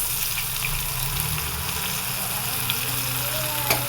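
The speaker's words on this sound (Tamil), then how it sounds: "இதை வந்து எண்ணெயில் சேர்த்துக்கலாம்" Crushed ginger fries in hot oil with a steady, loud, broadband sizzle that holds throughout and has a few faint pops.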